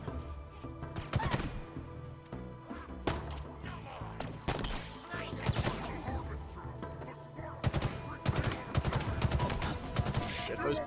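Rapid bursts of turret gunfire in the Halo Infinite video game, loud and repeated in clusters with explosions and game music layered underneath, continuing steadily throughout.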